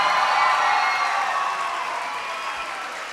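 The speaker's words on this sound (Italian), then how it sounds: "un grande applauso, un grande grazie a Mr. Glenn Matlock!" Audience applause for Glen Matlock of the Sex Pistols at a talk in Udine, Italy: a dense, steady wash of clapping and crowd noise at moderate volume, fading slightly over a few seconds.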